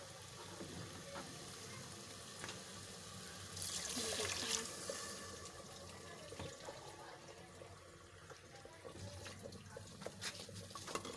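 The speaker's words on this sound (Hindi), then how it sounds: "अब इसमें हम पानी डाल देंगे।" Water poured into a pot of savory daliya (broken wheat) on the stove, a steady splashing pour swelling briefly mid-clip over a low constant cooking hiss.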